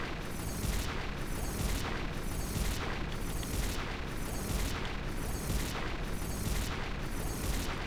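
Rapid repeated booming explosions from a Bomb Core and HP Sphere mix in Final Fantasy X, a dense, loud barrage pulsing in a steady rhythm roughly every half second with no break.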